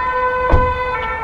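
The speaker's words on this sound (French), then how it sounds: "Il y a le SAMU qui passe." A SAMU ambulance passes with its siren sounding, steady tonal wail heard from a car, with a brief thump of road noise midway.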